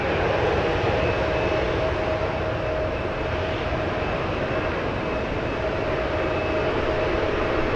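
A plane touches down on the runway at San Francisco International Airport with a steady, loud jet roar and a faint whine that holds evenly throughout, with no voices.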